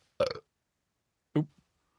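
Two separate burps, one short and one a little shorter, come about a second apart, loud and close against silence.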